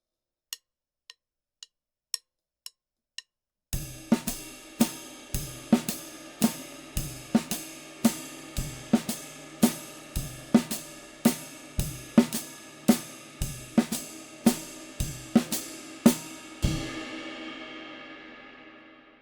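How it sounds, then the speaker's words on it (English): A few sharp stick clicks count in, then a jazz drum kit plays steady ride cymbal quarter notes with snare accents in a lilting 3/4 meter, ringing out at the end. "So putting that all together with just ride cymbal quarter notes sounds something like this."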